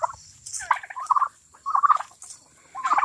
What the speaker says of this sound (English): Big blue slate gobbler.